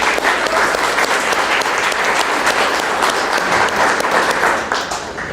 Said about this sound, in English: So I just want to give them a round of applause.